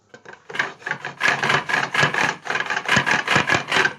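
Steady, rhythmic rasping scratches of sandpaper worked back and forth over the wooden body of a Telecaster guitar, close and fairly loud, with no voices.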